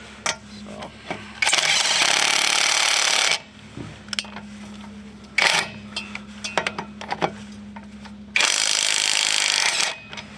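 An AutoJare 20V battery impact driver works a lug nut off a tire in three loud, sustained buzzing bursts separated by clicks and handling clatter, with someone talking in between.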